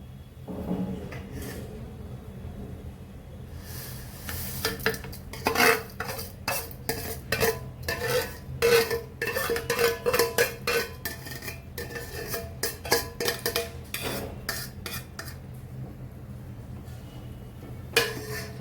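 A utensil repeatedly scrapes and clinks against a metal pot in a busy stirring rhythm as vermicelli is stirred into boiling milk, with a low simmering hiss underneath, close up.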